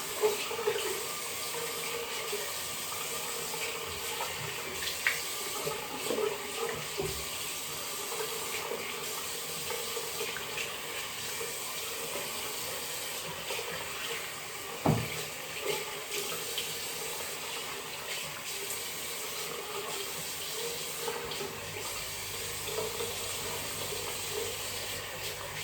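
Tap water runs steadily into a sink while skin is rinsed during an evening skincare routine, a continuous close splashing wash with a few small knocks and no talking.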